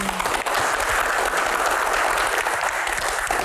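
Steady, dense audience applause at a disaster-preparedness Q&A panel, loud and continuous throughout without a break, with no talk over it.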